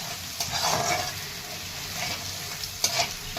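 Finely ground coconut, garlic and ginger frying in oil give a continuous close sizzle with occasional sharper crackles and light stirring sounds, with no voices.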